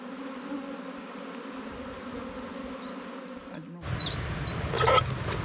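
Honey bees drone steadily around a newly set-up hive on its stand, a constant close buzz, with a louder burst of buzzing and a few faint bird chirps near the end.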